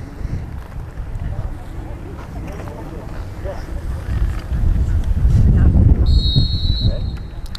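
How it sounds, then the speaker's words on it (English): Strong gusty wind buffets the microphone outdoors at a school sports game, a dense low rumble that swells louder toward the end, with faint talk mixed in. "Really windy today."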